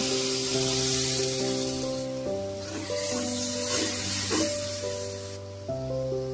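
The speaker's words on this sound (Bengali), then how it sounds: "এবার আমি আরেকটু পরিমাণ নারকেলের দুধ দিয়ে দিব" Coconut milk goes into frying masala for a prawn malai curry, producing a loud, steady sizzling hiss that fades slightly, with background music playing throughout.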